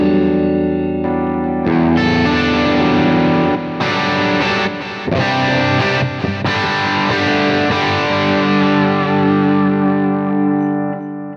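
An electric guitar played through its humbucker bridge pickup rings out in loud, distorted chords and sustained notes, with a tape delay adding echoing repeats and a lingering tail.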